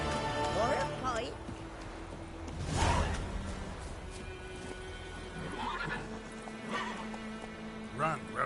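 Roach, the horse in The Witcher 3: Wild Hunt, gallops with clip-clop hoof beats and snorts and whinnies, set against steady game ambience, while a voice speaks over it.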